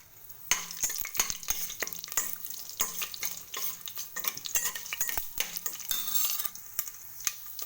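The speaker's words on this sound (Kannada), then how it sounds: "ಇದಕ್ಕೆ ಮೆಂತ್ಯ ಹಾಕಬೇಕು ಒಗ್ಗರಣೆಗೆ." Fenugreek seeds fry in oil for a tempering, a steady sizzle in a pan broken by sharp metal spoon scrapes and clinks as they are stirred, close and alone without speech.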